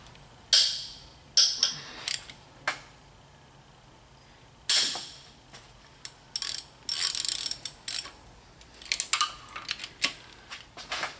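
A ratchet loosening cylinder head bolts on a 2007 Mini Cooper S R56, with close, irregular bursts of rapid clicking separated by short pauses.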